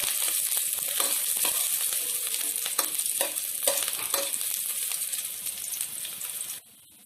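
Onions fry and are stirred in hot mustard oil in a pan, a steady loud sizzle with repeated scraping stir strokes, running continuously before cutting off near the end.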